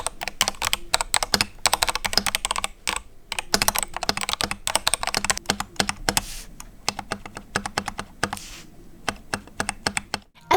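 Typing on an EpoMaker TH80 Pro 75% keyboard kit with Flamingo switches and ice cream keycaps: close, crisp keystrokes in quick bursts, pausing briefly and then resuming, with no one talking.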